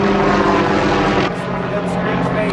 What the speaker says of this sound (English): And there's a helicopter in the sky.